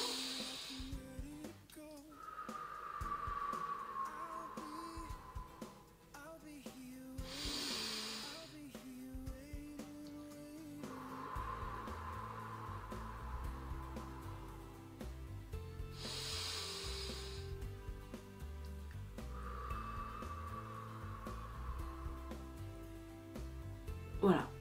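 Three deep, slow relaxation breaths, each a soft airy inhale, are spaced several seconds apart, with a calm voice speaking quietly between them.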